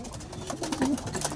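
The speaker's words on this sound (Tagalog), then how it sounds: "Ito na yung ating mga young birds, pumasok na." Young racing pigeons coo softly in a loft, a few low, near burbling calls over faint rustling.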